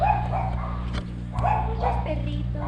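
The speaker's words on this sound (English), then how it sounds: "there's like a lot of little dogs" Several small dogs yap and bark in short bursts at a Oaxaca art school, mid-distance over a steady low hum, with people talking nearby.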